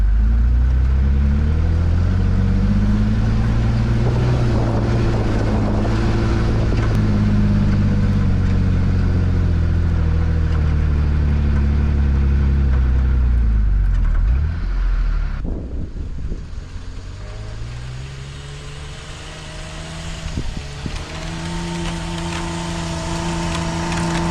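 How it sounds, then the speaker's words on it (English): A pickup truck fitted with tire chains labors up a deep snowy hill, its engine droning loud and steady with shifting revs, then cutting out partway before resuming more quietly. "So this is a hill I couldn't make it very good when I first come in here setting, so hopefully make it with the truck."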